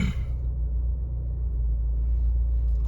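A warmed-up Honda Civic Si with 204,000 miles idling just after starting, a low, steady engine rumble heard up close without speech.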